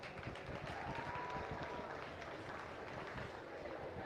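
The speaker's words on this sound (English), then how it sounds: "Give him a good round of applause." An audience applauds at a county fair livestock show in an arena, with steady, fairly faint clapping and crowd noise that a voice partly talks over.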